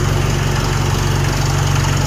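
Mahindra 575 DI tractor diesel engine idling up close, a loud, even low-pitched chug with a constant vibrating rhythm throughout.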